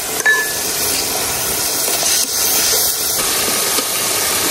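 Hidol (chapa shutki) fermented fish paste sautéing in a pan gives a steady, loud, close sizzle and hiss, with a few small clinks.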